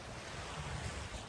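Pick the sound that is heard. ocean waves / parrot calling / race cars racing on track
ocean waves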